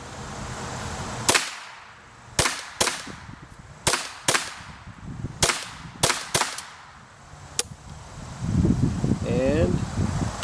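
Aguila Super Extra ammunition fired in a run of about nine sharp, loud gunshots at uneven intervals, each one cracking out and decaying fast, with rustling and handling noise between them and a low rumble near the end.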